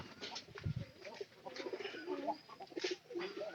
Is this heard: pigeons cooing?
yes